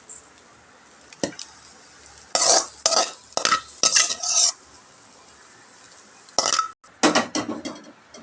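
Metal spatula scrapes and clatters in a pan as a fried egg is lifted out onto a plate, several sharp bursts of scraping with quiet pauses between, close by.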